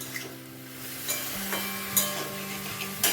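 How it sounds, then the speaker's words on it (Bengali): Chicken and chopped onions fry together in a pan for a Bengali chicken kosha, a continuous close sizzle with light stirring scrapes and small clinks, with no voices. "তারপর মাংস আর পেঁয়াজ একসঙ্গে ভালোভাবে ভেজে নেব আমি।"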